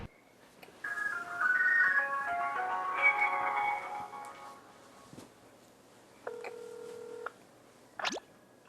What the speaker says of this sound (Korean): 전화로 한번 연결을 해볼까요?